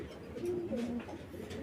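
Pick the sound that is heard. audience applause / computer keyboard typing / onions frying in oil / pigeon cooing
pigeon cooing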